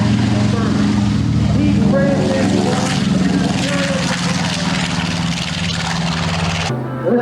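A B-25 bomber's 2,800 horsepower engine drones loud and steady with a propeller hum at an air show in Frederick, Maryland, continuous for about seven seconds before a sudden drop near the end, with faint voices underneath.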